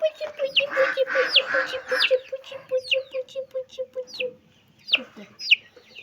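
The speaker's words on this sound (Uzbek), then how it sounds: "Mana bizni bitta jo'jamiz." Close clucking and soft chirps from a small chick, repeated in quick bursts with brief pauses, with faint murmuring in the background.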